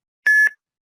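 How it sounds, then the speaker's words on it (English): A LabQuest data-collection device gives a single clear electronic startup beep at initialization, loud and close, lasting about a quarter second before silence. "we'll hear a beep that will be the start of the initialization"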